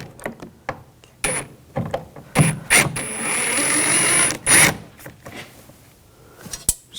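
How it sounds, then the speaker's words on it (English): A T20 socket turns out screws from a 2000-2006 BMW X5 front door panel: sparse clicks and ratcheting, a short whirring run in the middle, then more scattered clicks and taps, close and alone. "I'm going to take these screws out, use a T20 socket."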